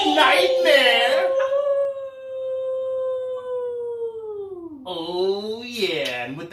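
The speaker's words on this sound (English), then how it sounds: "with the howling of the wolf" A wolf gives a long, loud, sustained howl that slides slowly downward, preceded and followed by rougher, wavering howling cries, close and clear.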